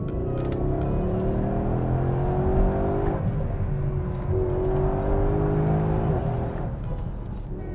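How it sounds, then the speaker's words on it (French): A Mercedes-AMG GLC 63 S Coupe engine revs and roars steadily, its pitch rising and falling as it accelerates through quick gear changes of the nine-speed AMG Speed Shift gearbox, loud and close. "le son qu'on préfère c'est évidemment celui du moteur"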